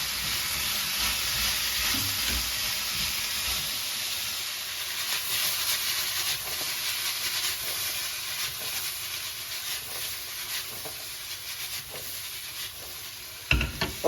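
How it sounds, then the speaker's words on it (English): Carrots, zucchini, peppers and onions stir-frying for a beef stir fry, giving a steady loud sizzle and hiss throughout with faint stirring scrapes, ending in a few sharp clatters. "Now we're going to add our carrots and zucchini and go keep cooking here."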